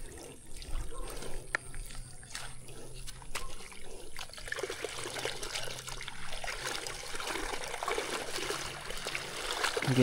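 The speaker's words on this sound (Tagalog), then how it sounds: "sobrang daming tubig dito. Pakawala na lang natin dito" Water released from a full spot and flowing out, a close trickling and splashing stream with faint clicks and knocks, rising slightly toward the end; no speech.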